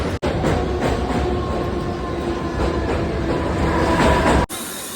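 A train at a Mumbai-area railway station, a loud continuous rumble with rhythmic clattering of wheels on track, close by and steady for several seconds before cutting off.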